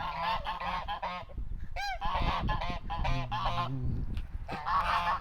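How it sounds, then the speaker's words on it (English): Backyard geese honking in a noisy flock, loud, close and overlapping calls in ragged bursts with brief gaps, several birds calling at once. "And then we have our geese over here."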